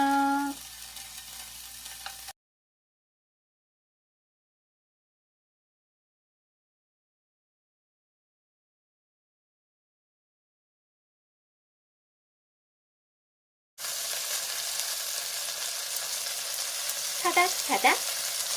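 Bacon-wrapped rolls sizzle and crackle steadily in a pan, close up, with a long silent gap in the middle and a few sharper pops near the end.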